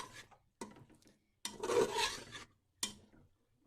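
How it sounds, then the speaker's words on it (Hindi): Chicken pieces stirred and scraped in a pot of mashed tomato masala, heard as several separate rasping, scraping strokes with short silent gaps between them. "अब इसमें मैं चिकन डाल दूँगी और इसको थोड़ी देर के लिए भूनूंगी।"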